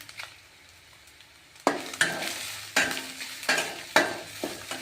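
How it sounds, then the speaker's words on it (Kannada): Cumin seeds and red chillies fry in hot oil in a pan while a spoon stirs and scrapes, giving repeated sharp sizzling bursts with pauses between them. It is close and fairly loud, with no talk. "ಆಮೇಲೆ ಕೆಂಪು ಮೆಣಸಿಕಾಯಿನೂ ಇದ್ರೊಳಗೆ ಫ್ರೈ ಮಾಡ್ಕೋಣ."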